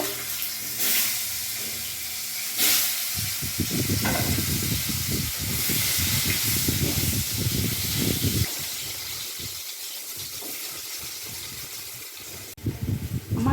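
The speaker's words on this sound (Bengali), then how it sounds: "আমি আলুগুলো ভেজে নেব" Potatoes fry in hot oil in a home kitchen, right after fish was fried in the same pan, giving a loud, dense sizzle and crackle up close that eases toward the end. No one speaks.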